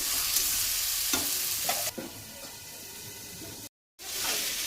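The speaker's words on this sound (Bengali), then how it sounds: "ওতে আমি ম্যারিনেট করা মাংসটা দিয়ে দেবো" Marinated meat frying in a pan, a close continuous sizzle with stirring scrapes, briefly cutting out before the sizzle resumes.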